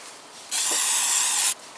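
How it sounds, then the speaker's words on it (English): A protectant aerosol is sprayed onto the rubber driveshaft boot of a Toyota Corolla. It gives one close, steady hiss that lasts about a second, then cuts off, with faint background noise before and after. "this oil is like just for rubber and boot protector, and this spray fits to all plastic parts"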